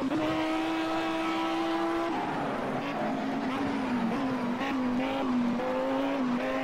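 A race car in the video game Project CARS brakes hard at a corner, its engine tone dropping sharply from a steady high whine, then pulsing at lower revs as it slows, with a strained rasp underneath.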